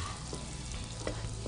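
Cashews and raisins frying lightly in ghee, a steady close sizzle with small crackles and a faint stir, no voices.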